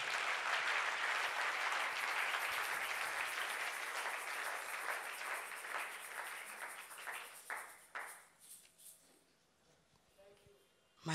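A church congregation claps in sustained applause, dense and steady at first, then thinning into scattered claps before fading to near quiet.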